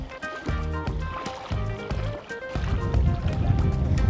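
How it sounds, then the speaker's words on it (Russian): Footsteps wading through shallow water on a sandy beach at Sotavento, Fuerteventura, rhythmic splashes close by, then a more continuous rush of water at the end. "Вот я прошла эту водную часть."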